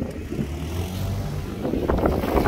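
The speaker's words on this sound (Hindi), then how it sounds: "गाड़ी देखें ये रुक गई थी मेरे लिए" A car rolls up and slows at a pedestrian crossing on a Canadian road, its low engine and tyre rumble steady and close for a couple of seconds.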